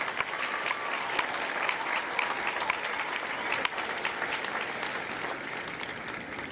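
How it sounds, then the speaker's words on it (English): A large audience at a Marine Corps recruit graduation ceremony applauds steadily and loudly for the company staff of Lima Company, a dense sustained wash of clapping with scattered louder claps throughout. "Please join me in a round of applause for the company staff of Lima Company."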